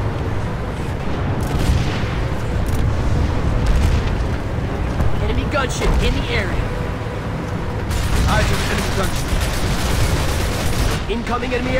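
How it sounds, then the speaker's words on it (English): Turrets open fire in the Planetside 2 video game during an aircraft attack, a dense, continuous barrage of booming shots and bursts that rolls on for the whole stretch, loud and close, with voices talking over it. "The turrets are firing on us."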